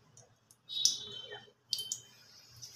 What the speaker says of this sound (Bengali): গ্যাসটা একটু বাড়িয়ে দিলাম।